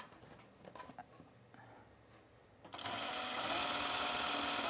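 A sewing machine stitches fabric while the seam is pulled firmly along its length, starting after a quieter stretch of handling noise and then running steadily and loudly to the end.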